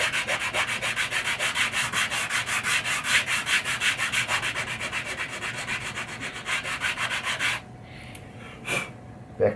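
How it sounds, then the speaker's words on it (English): Hand sanding of the wooden shooter lane on a pinball machine, a close, steady back-and-forth scratching in quick regular strokes for several seconds, then stopping with a couple of faint scrapes afterward. "We're going to sand it to get it as good as we can"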